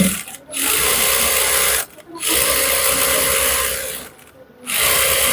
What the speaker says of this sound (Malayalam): 1 ഇഞ്ച് വിട്ടിട്ട് ഇങ്ങനെ സ്റ്റിച്ച് ചെയ്യാം.